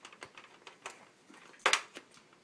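Small plastic Xbox 360 console parts clicking and snapping back together, a string of light, close, irregular clicks with one sharper snap near the end, and no talking.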